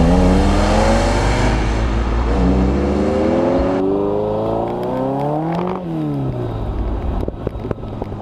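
A Michelotto Ferrari 308 Group B rally car engine revs loudly and steadily up close while driving, rising and falling through gear changes, with a constant droning whir throughout.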